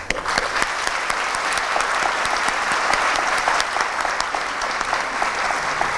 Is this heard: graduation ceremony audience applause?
yes